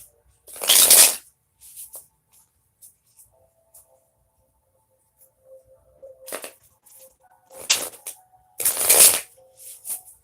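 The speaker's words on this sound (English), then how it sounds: "Let me shuffle a little bit more." Tarot cards being shuffled in three loud, rustling bursts with quieter riffles and faint background tones between them, close and clear, without talk.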